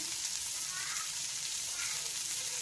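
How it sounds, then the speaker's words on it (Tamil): Spices and masala sizzle steadily in a hot pan while being sautéed for an egg dish, a soft continuous frying hiss with no talking. "இதை நல்லா வதக்கிடலாம்."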